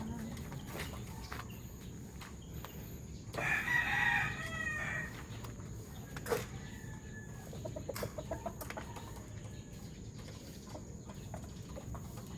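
A rooster crows once, loud and close, against a steady outdoor background with a few scattered clicks and knocks.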